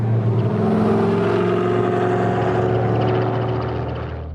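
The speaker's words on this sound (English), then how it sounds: "Oh, sweet helicopter." A helicopter flies overhead, a loud, steady engine and rotor drone that holds level and then fades slightly toward the end, with no talking.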